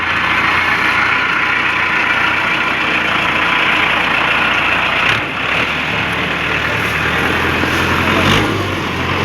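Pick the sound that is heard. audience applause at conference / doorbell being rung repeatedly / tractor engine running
tractor engine running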